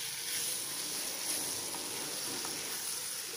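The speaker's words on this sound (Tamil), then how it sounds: "இந்த இடித்து வச்சுருக்கிற வயல் நண்டையும் இதில் போட்டு நல்லா இந்த எண்ணெயில்" Crushed field crab sautéing in oil over a high flame, a steady close sizzle with soft, faint crackle and no voices.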